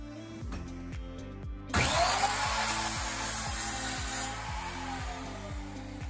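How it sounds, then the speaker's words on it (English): A power saw bites into a 1x6 wooden board, a sharp high whine that holds for several seconds under a steady rhythmic background beat, close and fairly loud, with no speech. "then you're going to get your saw ready and start cutting"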